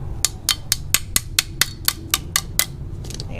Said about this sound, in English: Hammer it out.